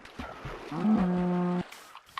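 A cow in the Minecraft video game gives a single short moo, clear and close, followed by quiet.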